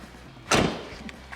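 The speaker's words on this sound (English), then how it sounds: "So close the door." A door on a 2007–2013 GMC or Chevy truck is swung shut with one solid, close thump. The cab is otherwise quiet.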